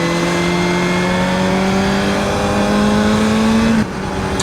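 A Kawasaki ZXR250 motorcycle screams under hard acceleration, its high-revving engine climbing steadily in pitch through a gear, then dropping sharply at a shift near the end. It is loud and close, with no talking.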